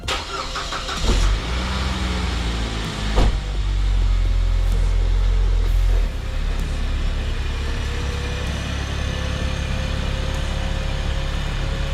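A 2004 Saab 9-5 Aero with new subframe bushings drives along steadily, its low engine rumble and road noise constant, with a few thumps and rattles early on.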